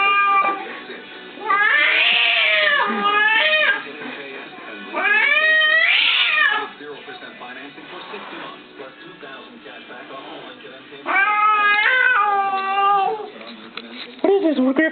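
A cat scared by a Halloween mask lets out loud, angry, wavering yowls in several long drawn-out bursts, with quieter stretches of low growling in between.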